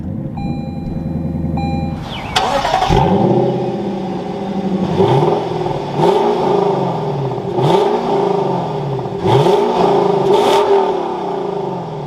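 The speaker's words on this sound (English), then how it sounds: "let's fire this up now and take a listen to that NA V8" A Lexus with a naturally aspirated V8 cranks and fires up with a loud bark, then gives a series of sharp revs that rise and fall back to idle. It sounds close and powerful, with no voices.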